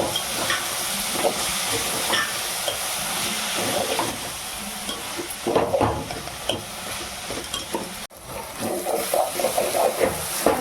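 Prawns with gongura leaves fry in a pan, giving a continuous hiss and sizzle broken by the scrape and clatter of stirring, with no voices.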